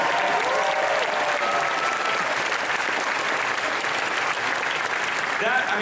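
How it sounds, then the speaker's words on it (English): An audience at a Disney Parks panel at Star Wars Celebration Orlando gives a steady, loud round of applause lasting several seconds, dense clapping filling the hall with a faint murmur of voices underneath. "Give him a round of applause."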